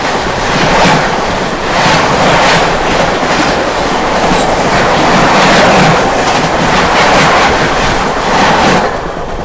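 Dakshin Superfast Express from Hyderabad to Nizamuddin rushing past during monsoon travel, a loud continuous roar of wheels and rushing air with rhythmic clickety-clack, close and sustained throughout.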